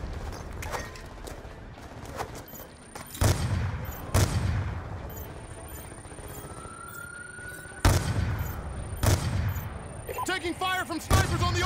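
Gunfire in the shooter Call of Duty Black Ops 2, loud individual shots and short bursts spaced across the scene amid battle noise and shouted voices.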